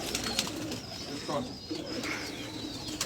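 Pigeons coo softly on a rooftop in the background, a low murmuring call repeated under nearby speech and ambient noise.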